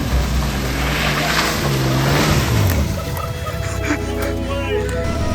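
A 3-inch lifted Ford AU Falcon engine drones loud and close while driving off-road, a low steady roar with a rising rev partway through, then settling into a sustained rumble.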